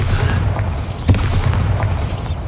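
Bombarda explosion spell cast in the Hogwarts Legacy video game: a loud booming burst near the middle over a steady low rumble, with a few smaller thuds around it.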